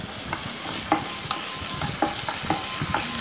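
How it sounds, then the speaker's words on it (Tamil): Chopped onions fry in a spoonful of oil in a nonstick pan, a steady sizzle broken by regular scraping stirs, about one every half second, close and alone without any voices. "மூணு வெங்காயம் கட் பண்ணிவிட்டு அதையும் ஆட் பண்ணுறேன்."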